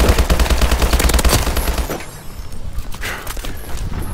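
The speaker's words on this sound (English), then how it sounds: "you gonna see the submachine gun that I'm talking about" Submachine gun firing in the video game Call of Duty Advanced Warfare, a loud rapid burst of shots for about two seconds that drops to quieter scattered game sounds.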